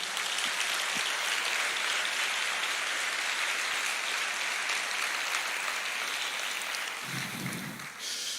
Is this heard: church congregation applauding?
yes